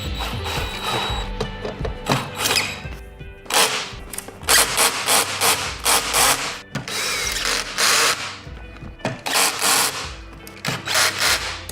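Four bolts fastening a plate to the back of a seat, driven with a power drill or ratchet: repeated bursts of whirring and clicking mechanical ratcheting that start and stop through the clip, close and fairly loud, with no talking.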